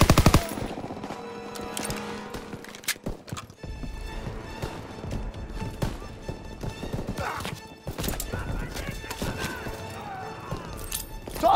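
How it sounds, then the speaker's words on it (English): Rapid, loud bursts of machine gun fire and other gunfire rattle through a battle in the video game Call of Duty WW2, nearly continuous, with shouting voices mixed in. "Open fire. Someone get on the MG."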